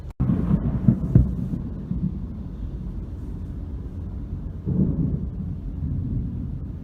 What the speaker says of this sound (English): I'm gonna enjoy the sound of the thunder because I love that sound.